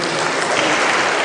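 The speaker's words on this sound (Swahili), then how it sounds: "Tuwapigie makofi." Crowd applause at a mega Orange Democratic Movement party meeting at Bomas, a dense, loud, continuous wash of clapping from a large audience that fills the whole moment without a break.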